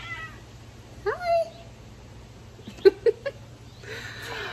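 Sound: cat meowing

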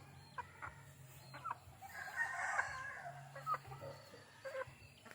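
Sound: chickens, a large straight-comb rooster

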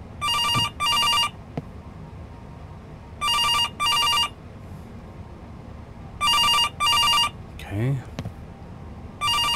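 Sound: telephone ringing in a horror video game

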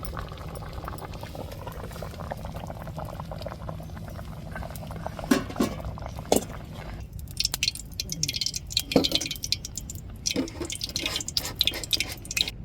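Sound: fish curry boiling in a pot

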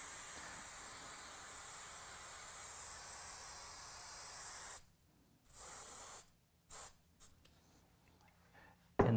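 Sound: spray being applied to model tree

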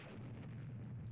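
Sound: explosion destroying a tank in video game Army Men 3D

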